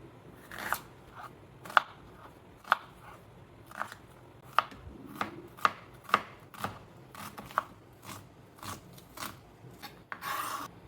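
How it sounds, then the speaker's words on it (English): A knife chops a sweet onion on a cutting board, about a dozen crisp separate cuts at an uneven pace, close up with no talking. "Start by cutting up a quarter of a sweet onion."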